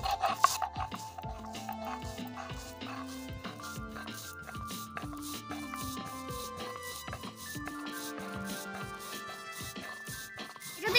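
Crispy dried ginger is crushed by hand into powder, producing close, dry crackling and rubbing sounds in short repeated bursts, with faint musical tones running underneath.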